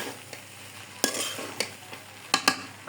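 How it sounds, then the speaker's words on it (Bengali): Rice being stirred with ghee and spices for zarda on a clay stove, a few sharp scraping strokes of a utensil against the pot over a faint sizzle, spaced irregularly and close up, with no voices. "হালকা করে মশলা দিয়ে ভাতটা একটু নেড়ে চেড়ে নিচ্ছি ঘি দিয়ে সুন্দর করে"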